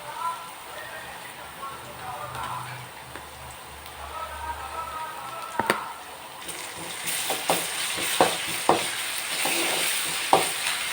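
Onions fry with ginger garlic paste for a mutton and jackfruit seed gravy, a soft sizzle that grows brighter, with scattered spatula scrapes and taps on the pan, faint and with no voices.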